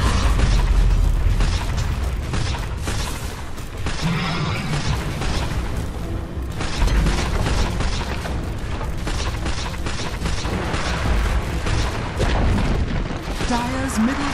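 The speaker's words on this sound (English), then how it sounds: "Dire's middle tower has fallen." Dota 2 match with a Dire middle tower coming under attack and collapsing: a dense, steady wash of booms, bursts and clashing combat effects with game music, sustained loud throughout the stretch.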